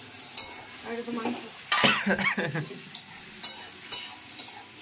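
Tomato chutney bubbles in a pan while a spatula stirs it with repeated scraping and metallic clanks over a soft sizzle. The clanks come in irregular bursts, with a faint murmur of voice in the background.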